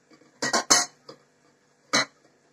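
A slippery saucepan lid slips against a pot and clatters in a few quick metallic knocks, then one more clank after a pause, sharp and close in a quiet kitchen.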